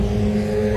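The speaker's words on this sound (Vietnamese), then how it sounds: "xe máy đi qua này thì" A motorbike engine hums loudly and steadily as it passes close by on a shopping street, a short, sustained droning burst.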